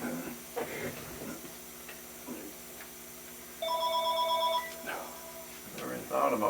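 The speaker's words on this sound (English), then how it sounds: "Never even thought about a phone ringing." A telephone bell rings once in a steady burst of about a second during a recorded interview, with people talking before and after it.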